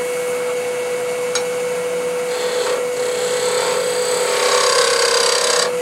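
Hand plane set with too much bevel, dragging and scraping across a wooden workpiece in a few rasping strokes, with a steady background hum and brief clicks.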